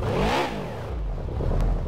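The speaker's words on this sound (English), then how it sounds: "Oh, that car sounds sick." Lancia Stratos engine in the Gran Turismo 2 video game revving loudly, a rising then falling roar that holds at a steady drone, with no voices over it.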